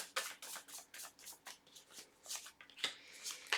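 Tarot cards are shuffled by hand at close range, a quick series of soft riffling bursts and flicks in an irregular rhythm, quiet and with no talking.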